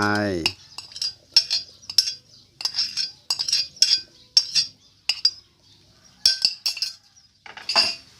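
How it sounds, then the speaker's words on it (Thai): Garlic and shallots pounded in a mortar, heard as about a dozen sharp, hard knocks close by in an uneven rhythm with short pauses between strikes. "กะเอากระเทียมแล้วก็หัวหอมที่เขาขวาไว้เอามาตำก่อน"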